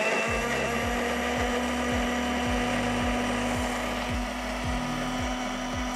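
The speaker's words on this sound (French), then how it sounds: "On va pouvoir maintenant mixer ça au blender." A blender whirs loudly, its motor pitch dipping and surging in repeated rhythmic pulses as food churns inside, with no voices present.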